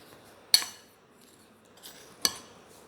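Semolina and flour are stirred together in a bowl: two sharp clinks of a utensil against the bowl, with soft, quiet scraping between them.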